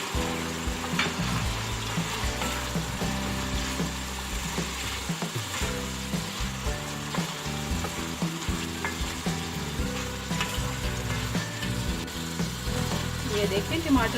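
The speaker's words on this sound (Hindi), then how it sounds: "अब मैं इसमें टमाटर डाल के भूनूंगी।" Tomatoes fry in a pan for keema, giving a continuous close sizzle with scraping stir strokes, blended with a layer of background music and some faint talking.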